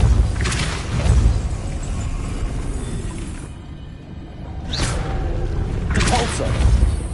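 Depulso force spell cast in the video game Hogwarts Legacy: two broad whooshing bursts with a booming low thud, separated by a short lull, loud and close over game ambience.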